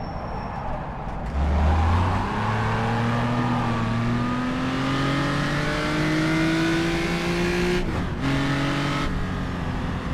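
Onboard a historic race car during a road race at Longford: a loud, close engine climbs steadily through the gears with a few brief shift breaks and no voices.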